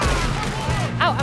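Gunfire from a Western shootout in Red Dead Redemption 2, dense and continuous with a bright burst near the end, mixed under a man's speech and game music.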